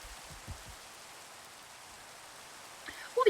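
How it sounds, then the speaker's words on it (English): Rain falls steadily in the Minecraft video game, a soft continuous hiss throughout, with a few faint thumps and a brief sound at the end. "This rain is really not helping the way."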